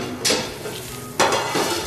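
Butter, about 30 grams, melting in a pan for a farmhouse Auvergne chicken fricassee with Charroux mustard, giving a steady soft sizzle broken by two louder bursts of stirring or scraping, close and without voices.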